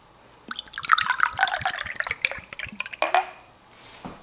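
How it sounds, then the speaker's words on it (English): Garlic dill pickle probiotic shot poured into a small 1.5 to 2 ounce shot glass: a close, bright trickle of liquid splashing and dripping into glass for about three seconds, then tapering off into quiet. "I'm literally just pouring it into a shot glass right now."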